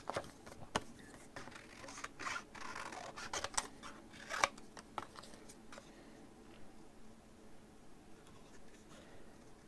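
Scissors snip out a curvy paper craft shape in a series of quiet, close, irregular cuts and rustles, with short pauses between clusters of snips.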